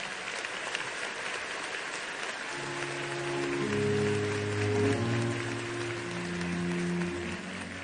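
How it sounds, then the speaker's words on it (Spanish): Audience applause at a graduation ceremony in Yauco, a steady wash of many hands clapping that swells slightly partway through, with some faint tonal music or sustained notes beneath it and no talking. "Fuerte aplauso para el compañero."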